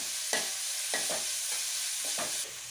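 Crushed garlic and ginger sizzle steadily in hot oil in a pan, with several rhythmic stirring scrapes breaking through the constant frying hiss.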